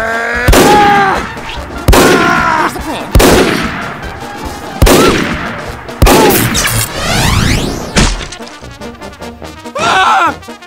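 Loud gunshots in the Garry's Mod video game, a series of roughly six heavy blasts about every second and a half, each trailing off in a long echo, followed by a burst of rapid firing.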